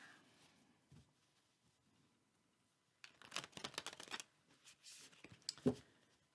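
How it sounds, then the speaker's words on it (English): Quiet rustling at first, then a burst of riffling, flapping card noise for about a second, followed by a few softer shuffles and a sharp tap. "it looks like we'll be shuffling a different deck"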